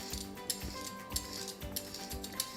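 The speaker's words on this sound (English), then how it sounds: "so we are going to start with our carrots. First, I'm going to scrape." Carrots being scraped with a peeler for homemade baby food purée: a quiet run of rhythmic scratchy strokes with small clinks, repeating about every half second, close and alone.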